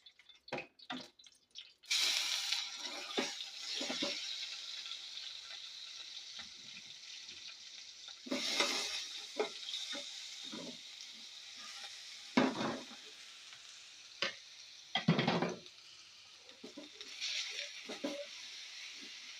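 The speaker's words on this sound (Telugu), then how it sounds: "మళ్ళీ కొద్దిగా నెయ్యి వేసుకొని మన సొరకాయ తురుముంది కదండి దీన్నైతే వేయించేసుకుందాం" Grated bottle gourd fries in ghee in a pan, a soft intermittent sizzle broken by scraping strokes of a spatula and occasional louder clatters over about twenty seconds, with no speech.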